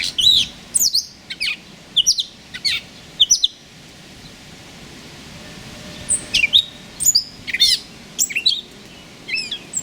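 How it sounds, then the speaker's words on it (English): Catbirds in a mulberry tree give repeated short, sharp chirps and mewing calls in scattered bursts, fairly close and loud, over a quiet outdoor backdrop. "Me and the catbirds picking mulberries."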